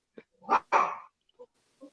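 A dog gives a couple of short, sharp barks close by, followed by two faint, brief whimpering yips in an otherwise quiet room.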